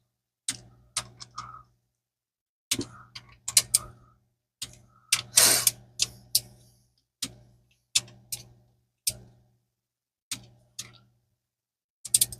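Torque wrench tightening valve body bolts during a 4R70W transmission valve body swap on a Mustang: about a dozen short bursts of close, crisp ratchet clicking separated by brief pauses.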